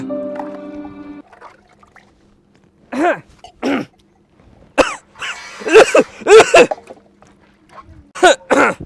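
A person coughs and clears their throat in loud, close, irregular bursts, grouped in short clusters, after a brief droning hum at the start.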